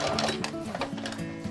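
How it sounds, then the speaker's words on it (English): A sewing machine top stitches folded bias binding around the edge of an apron, running in a steady mechanical whir with small shifts in pace, close and fairly loud. "I'm just going to top stitch all the way around, keeping that fold nice and even"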